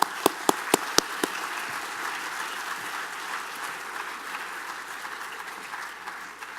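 An audience at a university distinguished lecture applauds to welcome the speaker, Corning's Wendell Weeks, with a few sharp nearby claps at the start over a sustained, even wash of crowd clapping that continues throughout.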